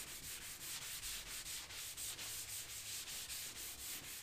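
An isopropyl-alcohol-soaked rag is rubbed steadily over a kayak hull in quick, even back-and-forth strokes, with a continuous scrubbing hiss close to the mic and no voices.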